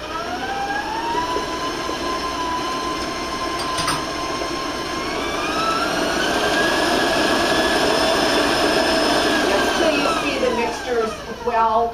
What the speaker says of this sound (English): And again, you want to beat them anywhere from medium to medium high.